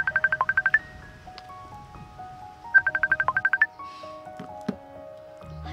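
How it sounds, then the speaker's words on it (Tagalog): A cellphone rings with a bright electronic tune, two quick bursts of rapid repeated beeps followed by sustained tones, heard twice in a quiet room. "May tumatawag sa cellphone mo."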